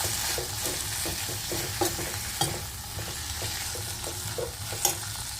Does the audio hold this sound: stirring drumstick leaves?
yes